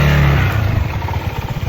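A motorcycle engine runs close by, a steady hum that shifts into a rapid, throbbing putter of firing pulses, loud and unaccompanied by talk.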